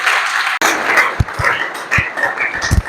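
Applause from the audience at the official launch of a foundation, with authorities in attendance: dense, steady clapping that stays loud throughout, broken by a few sharper low thumps and knocks.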